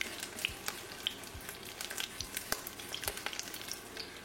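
Chicken pieces frying in a Cookeo multicooker pot: a steady soft sizzle with scattered crackles and occasional utensil clicks, close and fairly quiet, with no talking.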